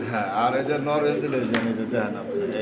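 Indonesian bloodline fancy pigeons, a male and a hen sitting on fresh eggs, coo in low, rolling phrases close by, repeating through the moment while someone talks over them.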